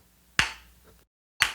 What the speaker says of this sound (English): then you're going to do one clap with every single click,